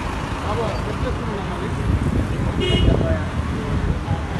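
Busy road traffic rumbles nearby while a car horn toots briefly partway through, with people talking over the engine noise.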